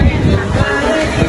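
Strong wind on a beach buffets the microphone in a steady rumbling roar, with surf noise mixed in and no clear voices.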